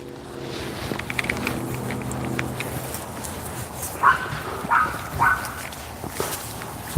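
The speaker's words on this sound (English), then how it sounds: "Why are you barking?" A dog named Luna makes short yips and barks outdoors, a few brief bursts over a background of footsteps and rustling, with a whimpering quality.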